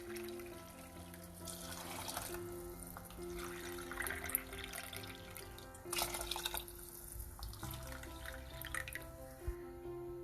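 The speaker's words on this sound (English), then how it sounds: "To this, I'll add water." Water pours into a pot of kuska biryani rice in a home kitchen, a steady trickling and splashing stream running for about ten seconds with light dripping and clinks beneath a faint musical background.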